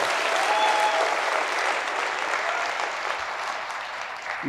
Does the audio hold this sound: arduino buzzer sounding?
no